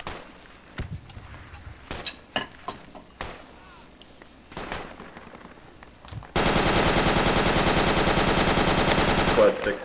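Sustained machine gun fire in a multiplayer war video game, a dense rapid rattle lasting several seconds after scattered single shots, footsteps and faint voices.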